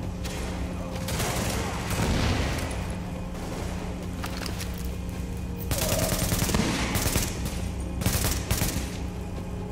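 Rapid bursts of automatic gunfire from the video game Tom Clancy's The Division, set in Manhattan, crackle in overlapping volleys across the whole stretch, loud and close with a few heavier clusters near the end.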